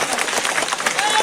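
Crowd at an outdoor Ramlila Dussehra festival clapping steadily, a dense wash of applause with voices mixed in throughout.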